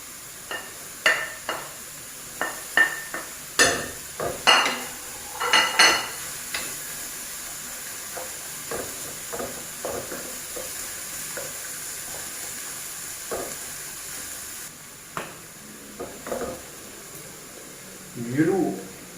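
Minced pork and vegetables are stir-fried in a pan for Thai basil pork, with repeated scraping stir strokes and clinks over a soft sizzle. A louder burst of sizzling comes near the end, and a voice talks over parts of it.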